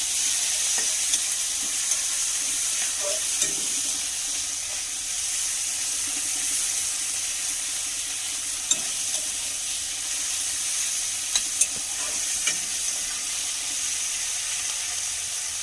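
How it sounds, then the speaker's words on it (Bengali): Small shrimp seasoned with salt and turmeric fry lightly in a pan, a steady soft sizzle with occasional stirring clicks, close and even throughout, without talking. "একটু দিয়ে দেবো লবণ আর দিয়ে দেবো একটু হলুদ গুঁড়ো দিয়ে একটু ভেজে নেবো, হালকা করে একটু ভেজে নেবো।"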